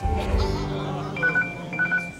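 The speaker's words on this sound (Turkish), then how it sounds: "Nerede çalıyor o telefon?" A lost phone rings somewhere in a crowded room during a party scene in a Turkish film, its repeated electronic tone bursts rising over background voices and low music.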